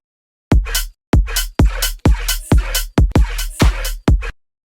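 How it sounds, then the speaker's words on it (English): A punchy electronic beat with deep kick thumps and bright, sustained open hi-hat hiss on the offbeats, loud and rhythmic, ending abruptly. "Little open hat, never hurt."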